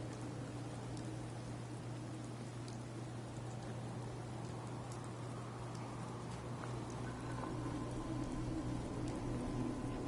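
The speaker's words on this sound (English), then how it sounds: "Hope this rain lets up soon." Steady rainfall in the video game Fallout 4 patters continuously at an even level, a dense wash of drops with a low hum beneath, no voices.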